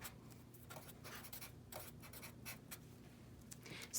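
Pen or pencil scratches on paper in short, irregular strokes, close and quiet, with small pauses between bursts of writing and no talking.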